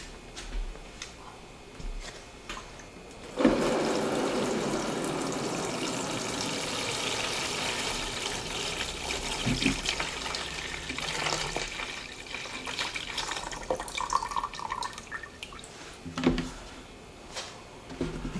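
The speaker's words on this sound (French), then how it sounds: "je vais mettre de l'eau dans le bac du bas" Water pours steadily into the bottom tray of a plastic growing container for tomatoes, starting abruptly after a short bump and running as a continuous close splash for many seconds, with a few clunks near the end.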